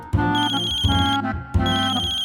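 An electronic phone ringtone chimes in short repeating bursts, loud and near, with no one speaking.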